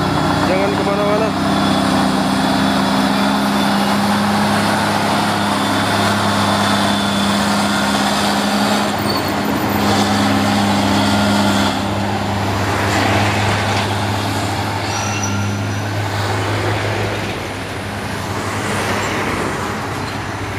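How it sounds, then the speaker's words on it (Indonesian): A heavy truck loaded with palm kernel shells labors up a steep hill road, its engine droning loud and steady with a deep hum and passing traffic noise, while someone talks over it. "Ada truk cangkang nih buatan berat bosku."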